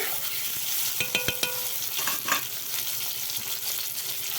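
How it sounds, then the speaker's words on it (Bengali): Eggplant pieces stirred and fried with spices in oil, a steady sizzle with a few sharp metallic scrapes and clinks of the spoon against the pan near the start. "বেগুনটাকেও নাড়াচাড়া করে এরকমভাবে ভেজে নিতে হবে মশলাটার সাথে"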